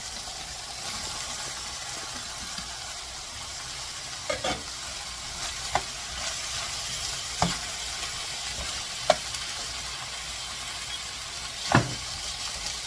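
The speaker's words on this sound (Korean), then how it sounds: "이제 야채랑 준비해 놓은 거 여기다 몽땅 넣고 볶을 겁니다" Meat and vegetables for gochu japchae stir-fry in a pan with a steady close sizzle, punctuated by several sharp clicks and scrapes of a utensil stirring.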